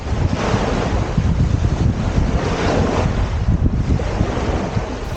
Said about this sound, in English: it is pretty chilly in that wind